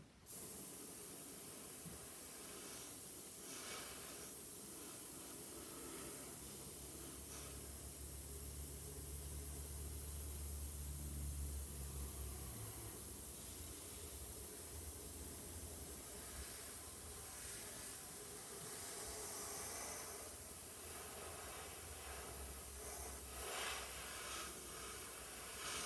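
Spray paint hisses through a stencil in a long, steady spray that continues almost without pause for nearly half a minute.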